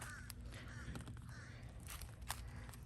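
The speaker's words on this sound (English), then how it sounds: "I feel like I'm being followed by a crow." A crow caws faintly in a Florida backyard garden, a few distant calls over low background noise and a soft rustle.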